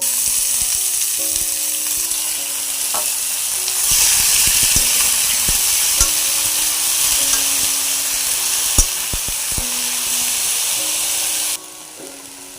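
Fenugreek leaves frying in a pan with onions for a pumpkin and fenugreek dal, giving a steady close sizzle that swells louder partway through, along with a few scraping knocks of stirring.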